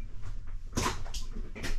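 A door bumps shut with a broadband knock inside a Jayco White Hawk 29RL travel trailer, followed by a couple of lighter knocks or rattles against a low background rumble, likely a passing train.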